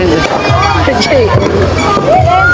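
Fireworks crackle and pop through a year-end party, with scattered bangs and whistling rises over a busy crowd and nearby voices talking.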